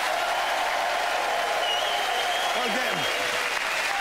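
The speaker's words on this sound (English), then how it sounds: "Build up your applause now, if you will, as we welcome to the stage Richard Herring!" A theatre audience applauds steadily and loudly as comedian Richard Herring is welcomed to the stage at an Edinburgh comedy show, a dense continuous roar of clapping with a brief voice cutting through near the end.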